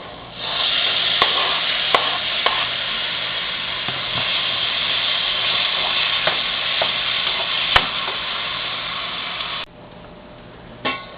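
Tomatoes frying in oil for rajma curry, a steady close sizzle with scattered clicks of a spoon stirring against the pan, and the hiss dropping away near the end.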